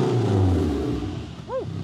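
A turbocharged Mitsubishi Eclipse GSX with 240,000 miles revs loudly up close in a sustained rumbling burst, then the engine note drops away and a brief rising whine follows near the end.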